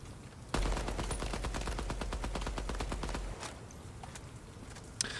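A gun sprays a long, rapid automatic burst while its recoil is tested in the Midnight Society play test shooter, steady fast shots for about three seconds, followed by a fainter tail and a single sharp shot at the end.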